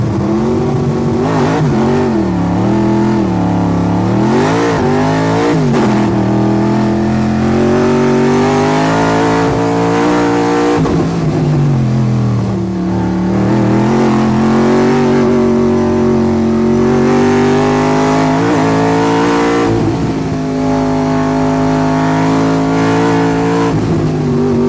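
A modified hill climb race car launches and accelerates hard, the engine roaring loud and close as it revs up through several gear changes with rising and falling pitch and no talking.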